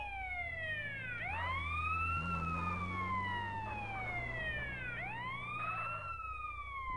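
Ambulance siren in the video game GTA San Andreas, a loud wailing tone sweeping up and down in long cycles over a low engine drone.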